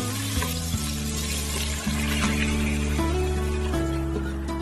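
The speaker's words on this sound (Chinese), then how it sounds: "油熱之後把香料倒進來翻炒" Spices stir-fried in hot oil in a wok, a steady close sizzle with scraping stirs and a few clatters, alone with no talk.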